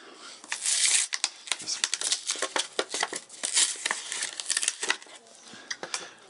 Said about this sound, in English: Let me break out our handy dandy scissors.